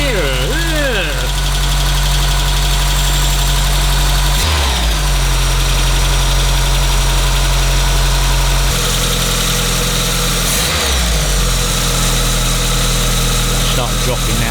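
A 1986 Volkswagen Scirocco Mark II engine idles steadily, a loud, continuous mid-pitched hum with small shifts in revs as it is tuned, and people talk over it.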